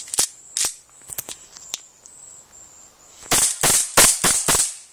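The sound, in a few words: 1911 Scorpion blowback airsoft pistol firing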